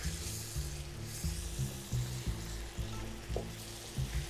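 Beef frying with turmeric powder, garlic and ginger paste and salt gives a steady broadband sizzle, with a low droning hum running underneath throughout.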